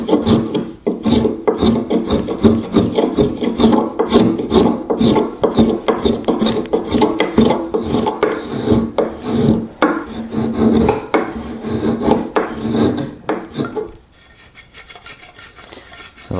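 Hand tools shape and clean up saw cuts in a wooden workbench part held down by a holdfast, with quick, steady rasping strokes close up that turn quieter near the end.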